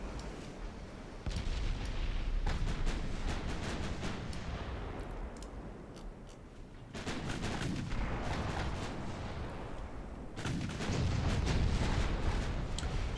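Naval guns on a Japanese dreadnought fire high-explosive shells in World of Warships, with several heavy booming salvos whose thunderous roar and rumbling tail repeatedly swell and ebb over about thirteen seconds.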